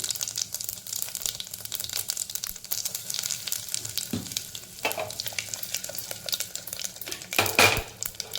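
Mustard seeds, cumin and asafoetida temper in hot ghee in a pan, a steady close sizzle and crackle with faint popping bursts and a few metal spoon scrapes, no voices.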